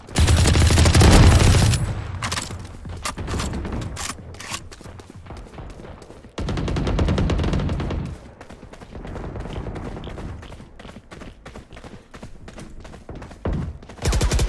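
Gunfire in Valorant: rapid bursts of loud, close shots come in several clusters, with one long sustained volley at the start and another midway, separated by quieter stretches of scattered single shots.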